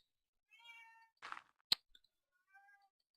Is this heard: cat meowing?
yes